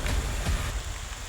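Steady rain falls in a broadband hiss that stays dense and fairly loud throughout, with no voices over it.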